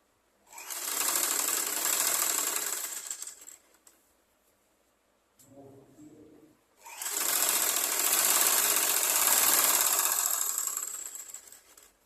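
A sewing machine stitches a blouse, running in two long, steady, close bursts separated by a quiet pause with soft handling noise.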